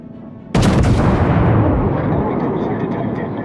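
Warship cannons firing in World of Warships, one sudden loud blast followed by a long rumbling roar that slowly decays.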